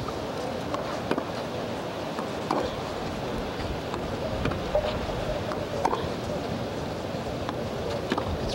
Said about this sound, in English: that wind is really tricky now